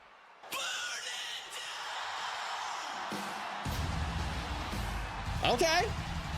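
A wrestling crowd at an MCW Pandemonium event cheers for Jinja, a broad sustained roar that swells louder in the second half with a high shout rising near the end.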